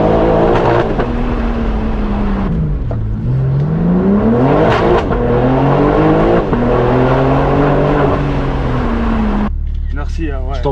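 A BMW M4 with a full straight-pipe exhaust, loud and close, its engine droning and rising and falling through repeated revs for about ten seconds, ending in a crackle; voices talk over it.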